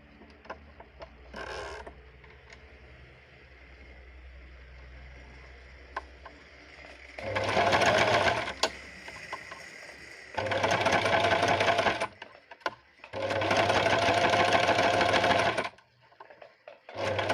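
A sewing machine stitches a canvas cushion, running in three loud, close bursts of rapid mechanical whirring separated by brief pauses, after quieter handling noises at the start.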